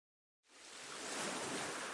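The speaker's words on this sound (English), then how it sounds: "you can hear the sound of the waves" Ocean waves in the video game Voice of Cards rise out of silence into a broad, steady wash of surf that swells and holds, soft and even with no voices.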